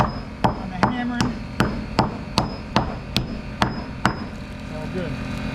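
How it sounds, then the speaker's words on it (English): Hammering nails into board and batten siding on a pole barn, about ten sharp, evenly spaced hammer blows ringing out up close, followed by a quieter stretch. "hammering."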